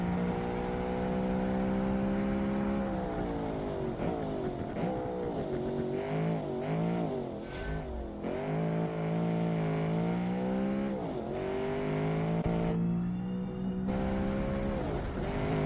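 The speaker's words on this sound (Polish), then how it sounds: "Niestety zewsząd on brzmi jak V8 fordowskie." Simulated car engine in BeamNG with a deep V8 muscle-car tone, revving up and down through gear changes in a continuous loud drone and whine, with no talk over it.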